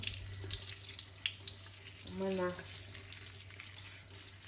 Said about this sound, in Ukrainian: Для початку нам потрібно промити нашу м'яту.